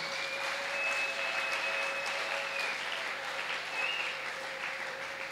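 Worshippers in a church applaud in a thick, continuous wash of clapping, moderately loud and even throughout, a thin steady tone humming beneath.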